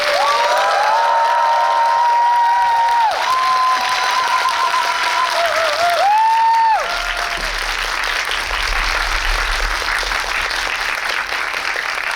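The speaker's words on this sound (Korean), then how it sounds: "여러분 큰 박수로 환영해 주세요" Audience applause and cheering fill a packed Megabox COEX cinema hall as directors arrive for a film talk event, a dense continuous roar of clapping throughout, with tonal music or voices ringing over it early on.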